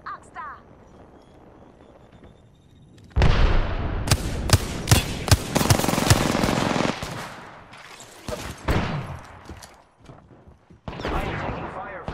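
Rapid video-game gunfire: after a quiet opening, loud bursts of sharp automatic shots erupt and continue in clusters, with a few pauses before another volley, while a player talks over the action.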